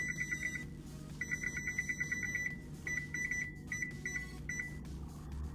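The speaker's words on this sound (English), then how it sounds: "Timer on." A kitchen timer set while baking a New Zealand meat pie beeps in quick repeated groups of bleeps, with short pauses between groups, over a steady low kitchen hum.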